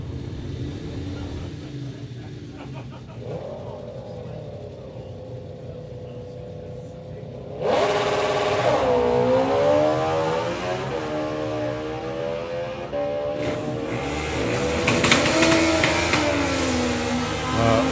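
Drag racing motorcycles, a Rock Bottom Racing Suzuki and a Ducati, blast down the strip at a national finals meet. Engine noise jumps loud about midway, with rising and falling revving whines that surge again near the end over a steady crowd-like rumble.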